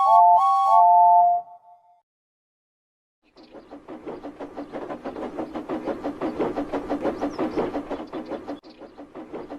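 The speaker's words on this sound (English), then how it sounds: "but then they heard a whistle." A steam locomotive whistle gives a loud, clear blast of under two seconds, then after a short silence the engine chuffs steadily in a rapid, even rhythm that stays close and prominent.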